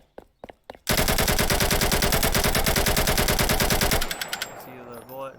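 Garry's Mod NPC battle gunfire: a few single shots, then a loud sustained burst of rapid automatic fire for about three seconds, ending in scattered shots and a fading ricochet-like ring.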